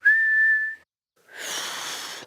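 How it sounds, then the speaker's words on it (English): A cartoon character whistles a single steady, high, clear note, then breaks off. After a short pause comes a breathier, airy whistle attempt, with no talk over either sound. "You're making a funny sound. I'm whistling."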